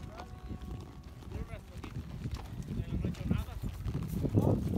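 Horses' hooves clop steadily on the ground during a group horseback ride in the countryside, a busy overlapping trot with riders talking loudly over it.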